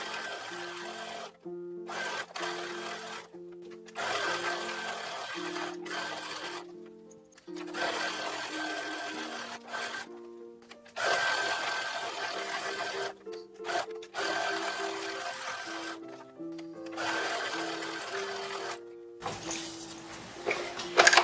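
A sewing machine stitching the sleeve of a 1930s-1940s style toddler dress, running in short close bursts of rapid mechanical buzzing broken by brief pauses.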